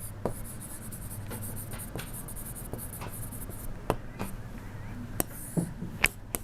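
Pencil or compass scraping on paper while an arc is drawn for a geometry construction, steady soft scratching with a few sharp taps, close and fairly quiet, with no voices.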